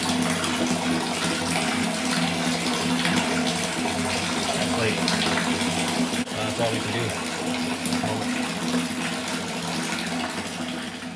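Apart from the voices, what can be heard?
water flowing through water system pipe from cistern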